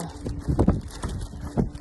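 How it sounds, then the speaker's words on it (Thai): Five horses walking in Barbon Village, England, their hooves clip-clopping in an uneven rhythm of several clustered knocks, fairly close, with faint wind and a soft voice in the background. "นี่ค่ะม้าอยู่ข้างหน้า มีกี่ตัวห้าตัวนะคะ"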